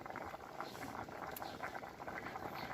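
A pot of sweet pumpkin dessert bubbling as it cooks, a faint continuous patter of small bubbles popping, close by with no talking.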